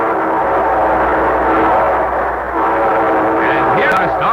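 A train sound effect opens a vintage radio program, a loud continuous rumble with rising whistle-like horn tones near the end, filling the whole stretch without any speech.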